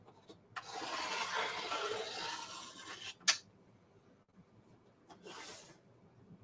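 Rotary cutter or scissors slicing through quilt fabric pieces, a long soft scraping cut followed by a sharp click and a second brief cut, close and fairly quiet.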